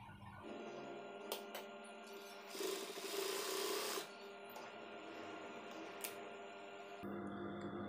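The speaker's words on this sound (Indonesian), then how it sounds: "Oke, ini akan saya jahit dulu." A sewing machine stitches a trouser pocket in quiet, steady runs with a low mechanical whir, broken by short pauses and small clicks near the machine.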